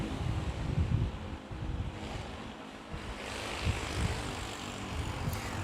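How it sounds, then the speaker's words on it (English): A Boeing 787-9 Dreamliner airliner at Manila's NAIA airport makes a distant, low jet-engine rumble, fairly faint and mixed with gusty wind buffeting the microphone. "So it's a 787-9 Dreamliner."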